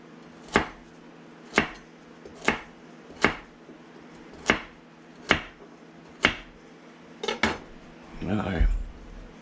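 A kitchen knife chops celery on a cutting board in eight sharp, evenly spaced strokes, followed by a brief clatter of pieces being moved, close and clear with no talking.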